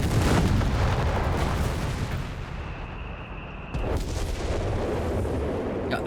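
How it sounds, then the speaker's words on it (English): Company of Heroes 3 howitzer artillery fire gives rumbling booms and crackling impacts over a dense, continuous wall of battle noise, with a sharper blast a little before the four-second mark. "We got the howitzer there trying to silence out as many of DevM's guns as possible"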